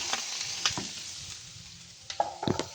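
Chopped onion frying in a hot pan gives a faint, steady sizzle, broken by a few soft stirring scrapes near the start and the end.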